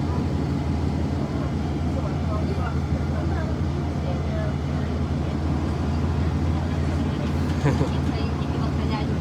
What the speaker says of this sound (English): This is a bus, it's public transport.